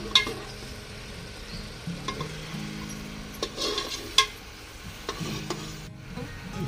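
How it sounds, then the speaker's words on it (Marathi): Chicken masala being sautéed on a wood-fired village stove, a soft continuous sizzle with scraping and stirring strokes of a utensil against the pot, plus occasional light clinks, close and moderately quiet. "मसाला आता परतून घ्यायचं काम चाललंय"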